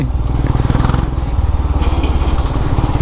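A Royal Enfield Himalayan motorcycle fitted with a Red Rooster aftermarket exhaust idles loudly up close, its deep, even thumping pulses repeating in a steady rhythm for the whole stretch.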